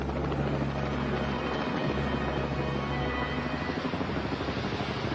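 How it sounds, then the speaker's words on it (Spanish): Rescue helicopters arrive after a plane crash into the Pacific Ocean, a loud, steady rotor roar with a low throb that holds at an even level throughout. "Los helicópteros de rescate llegaron rápidamente al lugar"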